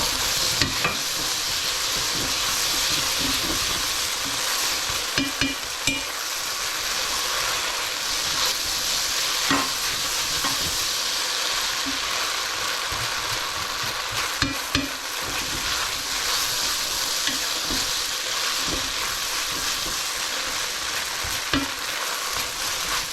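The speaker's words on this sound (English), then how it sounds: "these are frying off now" Egg dumplings sizzle steadily in a hot pan, a continuous crackling fry with occasional scraping and stirring clicks.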